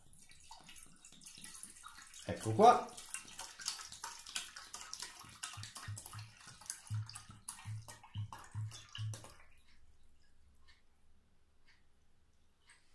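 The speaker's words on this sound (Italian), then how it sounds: "ci verserete l'acqua, 1 litro d'acqua" A litre of water is poured into a dedicated container for making rabbit-skin glue, giving a splashing, gurgling stream that starts abruptly and runs about seven seconds before stopping, with a voice speaking briefly during it.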